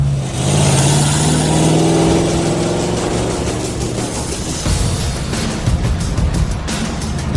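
A 1971 Pontiac T-37 with a V8, five-speed and dual exhaust pipes accelerates hard. The loud, close engine roar climbs steadily in pitch through the gear, then turns rougher and more broken toward the end.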